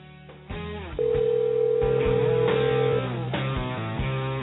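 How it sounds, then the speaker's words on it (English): An outgoing telephone call rings over a narrow phone line, with a steady tone after a short click and shifting tonal layers that hold for several seconds, with no talk. "let's get this phone ringing"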